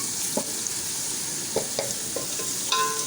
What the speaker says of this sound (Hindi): हमारी जो सारी गरम मसाले की जो चीज़ें हैं वो भी अच्छे तरीके से सौटे हो जाएँ हमारे ऑयल के अंदर